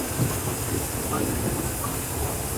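An overnight train from Hubli to Chennai rolls along with a steady, dense rumble and hiss of wheels on track, continuous and close from inside the carriage.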